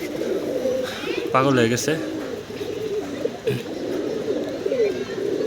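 Pigeons coo in a loft, a low rolling warble repeating close by while someone speaks over the birds.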